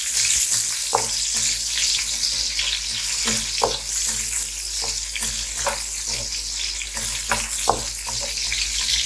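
Chili frying in hot oil for pork binagoongan, a steady close sizzle with light stirring clinks and scrapes of a utensil popping through at irregular intervals.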